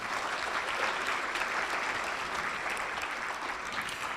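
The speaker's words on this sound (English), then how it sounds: "So give yourselves a round of applause because you make that happen." Steady, even applause from a large audience at a Making Strides Against Breast Cancer kickoff event, distant and sustained with no pauses.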